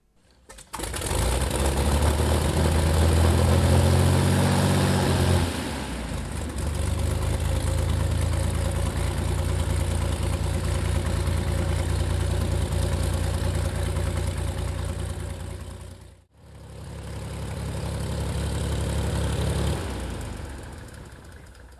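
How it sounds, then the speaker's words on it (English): A large hand-started piston aero engine, with no starter motor, roars steadily and loudly up close, its pitch shifting as it revs, briefly dipping nearly silent before picking back up. "it is a hand-started engine, so you won't hear any starter motor before it fires"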